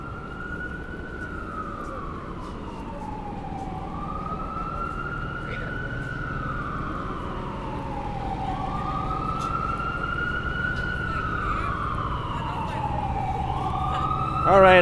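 An ambulance siren wails in long rising and falling sweeps as it passes along a Manhattan street on the Upper East Side in New York City, loud over steady traffic rumble with a bus nearby.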